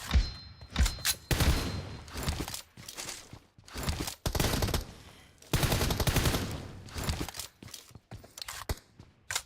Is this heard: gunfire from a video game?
yes